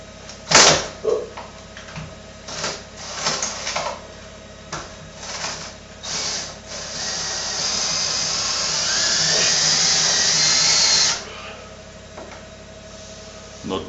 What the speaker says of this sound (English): I can screw in aluminium pretty easy